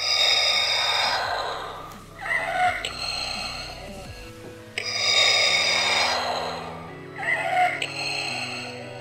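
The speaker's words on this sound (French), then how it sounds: "ce masque a 2 effets de respiration" A Darth Vader Black Series mask plays its mechanical breathing effect, with two slow, loud inhale-exhale cycles close up, each followed by a hissing, rasping exhale.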